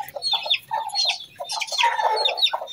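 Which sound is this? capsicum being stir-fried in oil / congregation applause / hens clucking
hens clucking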